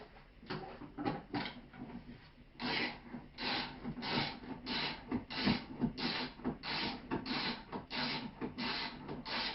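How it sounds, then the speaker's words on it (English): A bolt inserted into a hole and tightened on the rear door of a flat-pack bar-top arcade cabinet, with close repeated ratcheting, scraping and rubbing strokes in a broken rhythm, no talking. "simply insert the remaining bolt into the hole and tighten"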